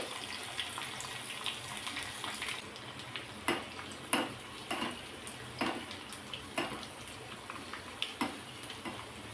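Garlic, dried chilies, mustard seeds and urad dal frying in oil for a keerai kootu, giving a soft, steady sizzle under a string of light clinks and scrapes of stirring, fairly quiet with no talking.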